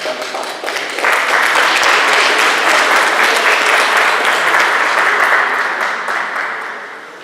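Loud, sustained applause from a sizable crowd at an art exhibition opening in Lviv, steady clapping that swells quickly and tapers slightly toward the end, with no talking.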